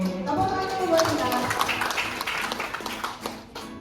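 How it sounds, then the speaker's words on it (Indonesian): Audience clapping at a teachers' learning community event, with scattered hand claps mixed with voices and talk, rising briefly and then thinning out over a few seconds. "Tepuk tangan buat kita."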